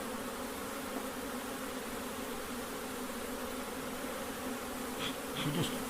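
Honey bees buzz around a long hive in a dense, steady hum of many insects, fairly soft and unbroken, with a few nearer buzzes toward the end.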